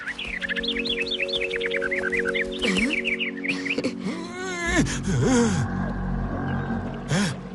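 A cartoon bird chirps in a rapid series of bright, rising tweets, followed by whooping, swooping animated vocal cries and gasp-like sounds over a steady tonal music bed.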